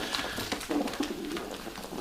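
Soft low cooing from pigeons nearby, with a steady background hum and faint rustling.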